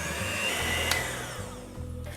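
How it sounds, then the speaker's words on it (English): An electric mixer beats vegan caramel apple spice cupcake frosting made with powdered sugar, a steady whirring motor hum running for the whole stretch with no talk. "now we're gonna get our electric mixer and beat it for 2 to 3 minutes"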